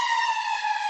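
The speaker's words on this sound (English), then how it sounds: "an ambulance has come to as an alarm for that answer" An ambulance siren wails steadily and loudly, a sustained bright tone close by with no voices over it.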